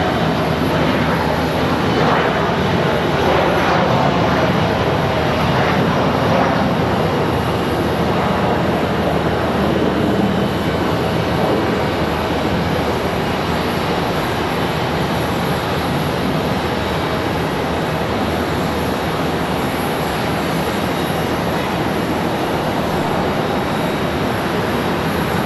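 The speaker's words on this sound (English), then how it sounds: "Another A319 arrival." An Airbus A319 arrives at Charlotte Douglas International Airport, producing a continuous, fairly distant engine roar that holds steady throughout with no talking.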